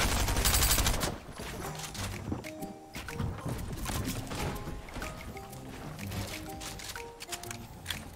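Gunfire from the Fortnite video game: a loud burst of rapid shots at the start, followed by steady game sounds with tonal effects and scattered reports throughout.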